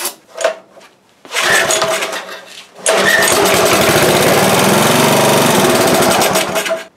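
A 5hp Briggs & Stratton small engine gets a short pull and sputter, then a second pull catches and it roars into a loud, steady, rattling run up close.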